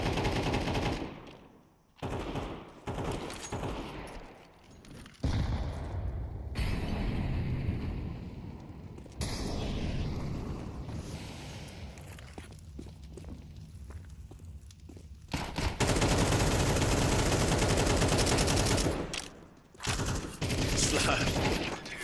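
Pistol fire in a Counter-Strike esports match comes in bursts of sharp shots with footsteps between them and loud gameplay noise throughout.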